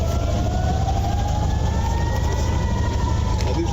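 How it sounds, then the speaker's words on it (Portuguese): Air raid siren wails in Tel Aviv as a warning of rocket launches, a loud sustained tone slowly rising in pitch over a heavy low rumble, unbroken throughout. "os cidadãos de Tel Aviv buscaram abrigo, enquanto as sirenes tocavam, alertando para o lançamento de foguetes"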